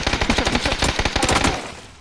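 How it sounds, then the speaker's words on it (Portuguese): Loud rapid bursts of automatic gunfire crackle in a video game, a dense string of shots rattling for about a second and a half before fading into a short echoing tail, with no voices. "Dá um tiro nele, vê se ele não morre."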